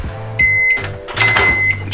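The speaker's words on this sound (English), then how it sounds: "For the microwave, we do a little 2 minutes is all it takes." A microwave oven runs on a two-minute setting, its steady hum and whir holding level under a few bright tones and clicks.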